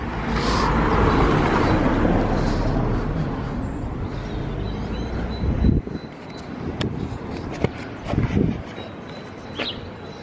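Cars rolling along a busy village main street in Heysham, a broad steady road roar for the first half, then quieter gaps broken by a few closer passing swells and brief knocks.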